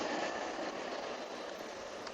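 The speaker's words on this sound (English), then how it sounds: "That's our train passing by, ladies and gentlemen." A train passes by outside, heard as a steady broad rushing roar, moderately loud and unbroken, with no voices over it.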